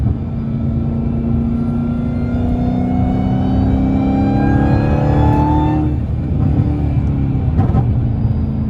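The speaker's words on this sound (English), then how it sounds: "More backfires from the exhaust." A Ford Mustang GT350's V8 revs hard, its engine note climbing steadily and loud up close, then the throttle drops and a couple of sharp exhaust pops and backfires crackle through near the end.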